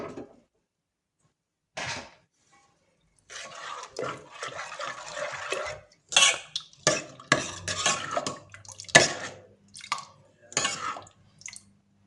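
Water poured into a pot of cooking lentils (dal) for a Tamil Pongal kuzhambu, heard as close splashing and trickling alongside clinks and scrapes of vessels and utensils, in short irregular bursts between silent pauses.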